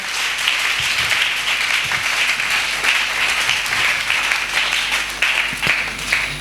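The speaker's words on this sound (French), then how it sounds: "Betela nkolo maboko." A church congregation claps for the Lord in steady, dense applause that holds at an even loudness throughout, with no voices over it.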